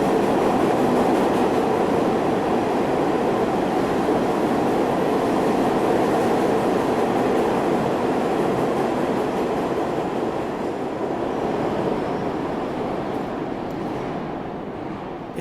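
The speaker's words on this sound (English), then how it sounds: "Train going by behind us." A subway train rumbles past at the 66th Street–Lincoln Center station in a loud, continuous roar of wheels and cars that slowly fades toward the end.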